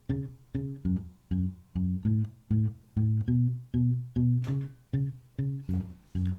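A guitar loop plays the four-note bass line of a song, low plucked notes repeating in a steady, even rhythm, close and clear with no voices.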